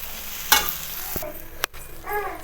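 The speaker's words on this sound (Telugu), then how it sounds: "చూసారా, ఇట్లా కలర్ మారేటట్టు ఫ్రై చేసుకోవాలి" A raw banana and moong dal curry fries in a pan with a continuous close sizzle, broken by several scrapes and knocks of a spoon against the pan. No voices.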